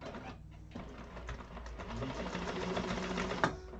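Sewing machine basting a seam on a tote bag, steady continuous whir with a rapid needle rhythm running close and loud throughout, a brief click near the end.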